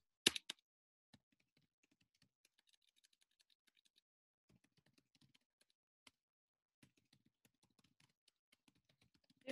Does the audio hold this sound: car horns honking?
no